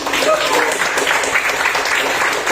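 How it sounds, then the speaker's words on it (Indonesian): Classroom students clapping together during a school lesson, a dense burst of hand claps filling the room for a couple of seconds. "tepuk tangan"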